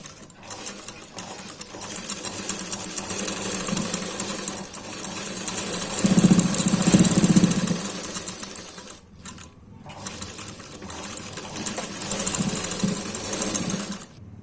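Sewing machine stitching a collar blouse, a steady fast mechanical whirring chatter that runs continuously, pauses briefly, then resumes, close and fairly loud with no talk.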